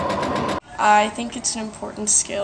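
A sewing machine runs in a short buzzing burst with a quick stitching rhythm, then cuts off as a person starts speaking.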